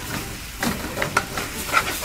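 A spatula scrapes the bottom of a wok while stir-frying spicy shark with fingerroot, giving a few soft scraping strokes over a continuous hiss and sizzle of frying.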